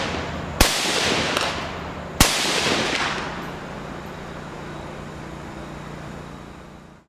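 Two sharp, loud rifle reports from a CETME .308 battle rifle at an outdoor range, spaced under two seconds apart, each followed by a long rolling echo that fades slowly; no talking.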